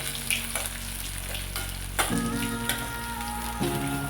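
Onion hits a pan and fries with a dense hissing sizzle, a few sharp bursts as it settles, close by, with a faint steady tone running beneath the latter half and no speech.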